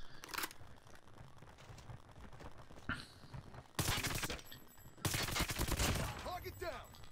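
HG40 hip-fire gunfire in a first-person shooter video game, loud bursts of rapid automatic shots in two long volleys after scattered quieter shots, with game effects crackling between them.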